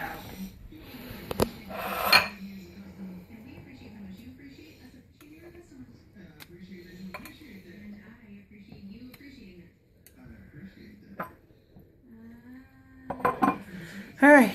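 Dirty dishes clatter and clink as they are shifted around in a kitchen sink during home butter making, with sharp bursts near the start and end and a voice talking in between.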